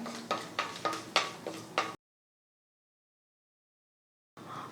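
Cloves, cardamom and a bay leaf being stirred as they fry in a pan, heard as five or six quick, evenly spaced scraping strokes, then a long silent gap and a faint return of sizzle.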